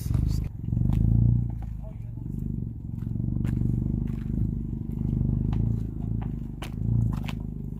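A 2020 Honda Civic Si with a freshly installed MAPerformance exhaust idles with a steady low rumble, fairly loud and close, while people talk over it.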